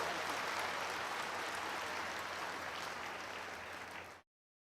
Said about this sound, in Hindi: ताली बजाओ परमेश्वर के लिए जोर से।